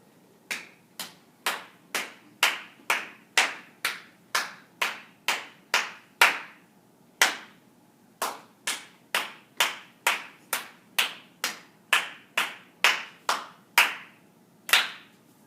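Hand claps tapping out the rhythm of the children's melody Lucy Locket, two clear phrases of evenly spaced sharp claps with a short pause between them, close and alone.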